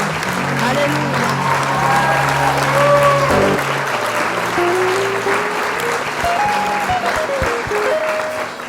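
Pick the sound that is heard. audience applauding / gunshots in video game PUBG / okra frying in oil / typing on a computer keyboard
audience applauding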